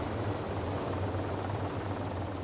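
A helicopter circles in the video game ArmA: Cold War Assault, a steady, even rotor drone with a constant hum that never changes.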